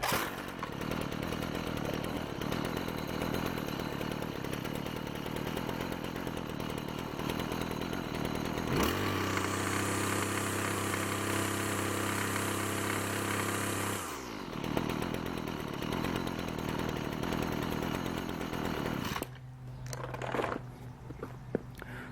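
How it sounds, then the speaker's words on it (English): A two-stroke weed wacker engine runs steadily, first at a busy high speed, then settling into a lower, even idle. The buzzing shifts in pitch as the idle is adjusted, loud and close, with no talking. "This engine's running great."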